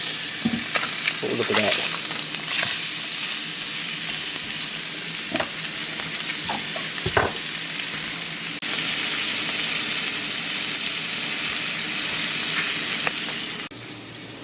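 Freshly caught fish frying in a pan on a stovetop eye, a loud, continuous hiss and crackle with occasional pops, while someone speaks briefly.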